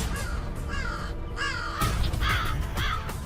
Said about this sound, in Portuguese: Os corvos também são espertos na rua.